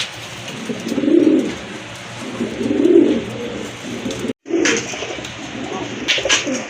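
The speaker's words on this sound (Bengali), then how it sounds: "মাদিটা কিন্তু ছাড়ার সাথে সাথে কিন্তু এটা ডাকাডাকি শুরু করে দিয়েছে অলরেডি" Large pigeons cooing close by, two drawn-out low coo phrases followed by more cooing after a brief cut, with occasional light rustles and no talk.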